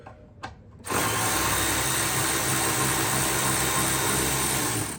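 A power tool or impact driver backs bolts out of a Kawasaki JS550/SX650 jet ski engine, starting after a couple of light knocks and then running steadily and loudly close by with no talk.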